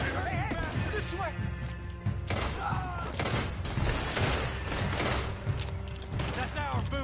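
Gunfire rings out in the video game Red Dead Redemption 2, scattered shots and thumps mixed with game music and a loud, busy soundscape, while voices shout over it.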